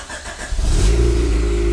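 A Honda Civic fitted with a new exhaust muffler revs up, the engine note rising from a low rumble into a loud, steady, throaty drone held close by.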